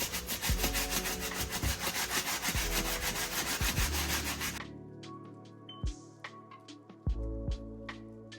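A brush dipped in cleaning solution scrubs a white canvas shoe in rapid, steady strokes for about four and a half seconds. Then it stops, leaving a few scattered taps and handling sounds, with no voices.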